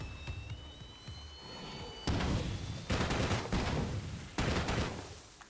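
A Starshank launcher fires in the zombie survival game State of Decay 2: four heavy, booming blasts land at uneven intervals, loud and near, each with a ringing tail over a quieter background.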